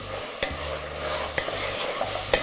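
Garlic sizzles in a hot pan as it is stirred, a steady close frying hiss broken by a few quick scraping knocks of the utensil against the pan.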